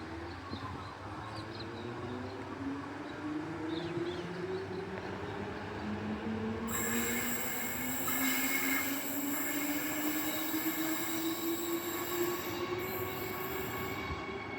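A Claremont-bound passenger train rolls into a Perth station with long rising wheel squeals over a steady rumble, a high metallic whine joining partway through, no voices.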